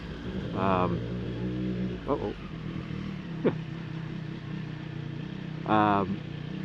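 A Triumph Street Triple RS motorcycle rides through New York City traffic, its engine holding a steady mid-pitched drone throughout while a person talks over it in short bursts.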